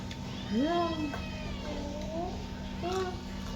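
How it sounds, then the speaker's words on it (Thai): A cat meows plainly a few times, with rising and falling cries close by over a steady low hum, and a faint voice in the background. "แมว"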